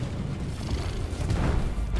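An explosion in the video game Deep Rock Galactic rolls out as a loud, low, sustained rumbling boom lasting the whole two seconds, with no speech.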